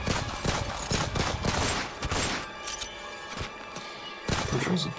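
Gunfire bursts as a sound effect in a Call of Cthulhu tabletop role-playing session: rapid volleys of sharp cracks in uneven clusters, fairly loud, with a short lull midway before more shots.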